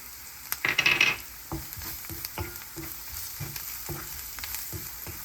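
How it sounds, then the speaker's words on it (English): Ground spices with dried mango powder, coriander and black pepper sizzle softly in a pan as a spoon scrapes and taps through them in a loose rhythm, close and quiet, with no voices. "Stir it well so all the spices get incorporated and they get fried a bit"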